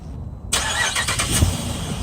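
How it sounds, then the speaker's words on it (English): A 2015 Jeep Grand Cherokee Overland 4x4 fires up by remote start in chilly weather, a sudden loud crank catching at once into a steady, close engine idle with no talking. "let's get it started because it does have a remote starter"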